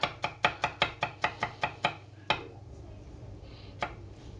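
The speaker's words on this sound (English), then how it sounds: "slice that up" A knife slices food thinly on a cutting board in a quick run of about nine crisp, regular taps, then a pause and two more isolated cuts, close and fairly quiet.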